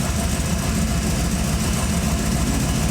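A Camaro engine running steadily while the driver gives it gas against the brake, a loud, close, continuous rumble with no clear rise in revs.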